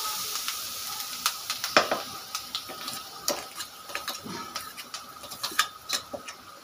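A hot tempering for a ground green pea chutney crackles softly with a low sizzle and scattered sharp pops and spits, quiet and irregular throughout.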